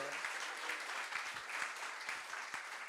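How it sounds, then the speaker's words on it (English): Faint, distant applause from an audience at a creative meetup in Kingston, continuous scattered clapping heard quietly throughout. "Everybody give David a big round of applause."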